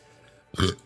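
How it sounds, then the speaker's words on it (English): A single short, loud burp erupts close to the microphone after a quiet moment, rough and throaty and lasting under half a second. "I burped into the thing again"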